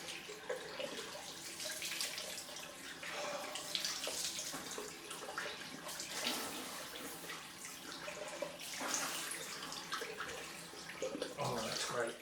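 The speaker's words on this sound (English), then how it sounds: "On with the cold water splash." Cold water splashing and running from a tap as a man rinses his face after a wet shave, a continuous close watery wash with bursts of splashing and a voice briefly audible near the end.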